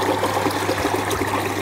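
Water from a pump pours steadily into a planted koi pond through a pipe, a continuous close splashing trickle with a low hum underneath, no voices.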